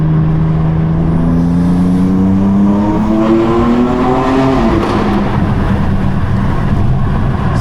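A tuned BMW M3 F80 engine revs up, its pitch climbing steadily before dropping off, then a rough idle rumble continues close by.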